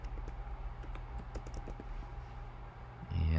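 Rapid keystrokes on a computer keyboard while entering an email address into a barbershop app's sign-up screen, soft irregular clicks over a steady low hum, ending in a louder burst of noise.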